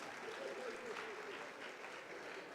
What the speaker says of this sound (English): A round of applause for our debaters and the moderators.